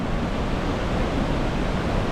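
High, rushing creek water on the Wahclella Falls Trail in the Columbia River Gorge, a close, loud, steady broadband roar with a heavy low rumble and no voices.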